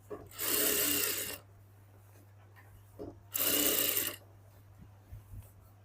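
A sewing machine stitching a salwar, running in two quick bursts of about a second each with quiet pauses between, close and fairly loud.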